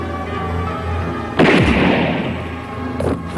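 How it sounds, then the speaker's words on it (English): Gunfire erupting in a low-budget action movie scene, a single loud blast with a rumbling tail and a fainter second shot following, set over a quiet background. "shoot them now!"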